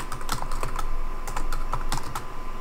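Keys clacking on a computer keyboard during GUI coding on macOS, a steady run of close, crisp taps in short bursts with no talk.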